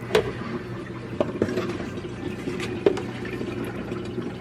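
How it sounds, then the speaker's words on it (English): Apple slices being drained of lemon water, with soft dripping and trickling liquid, a few light clinks and taps, close and fairly quiet. "I'm getting ready to drain the apples of the lemon water"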